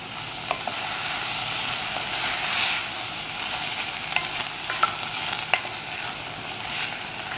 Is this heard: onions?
yes